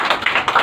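A burst of clapping for students during a spoken English class, a dense, continuous patter of many hands lasting under a second, fairly loud with no talk over it.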